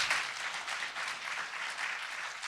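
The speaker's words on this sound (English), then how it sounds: "let's give another round of applause to our four presenters" Steady audience applause for four presenters after a Common Core talk, even continuous clapping throughout at moderate level.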